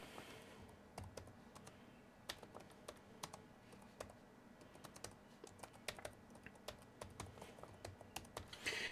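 Typing on the low-profile backlit keyboard of a Futuco Palbook laptop: quiet, steady soft key clicks in an irregular rapid patter, close up and faint, with no talking.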